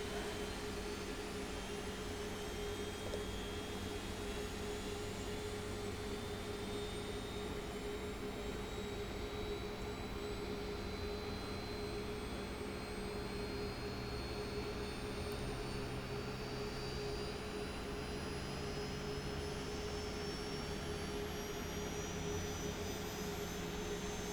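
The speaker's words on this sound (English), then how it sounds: "start engine on the right first" In the DCS flight simulator, the right engine of a Mi-8MTV2 helicopter spools up with a steady, loud turbine roar and a slowly rising whine that holds throughout, with no talk.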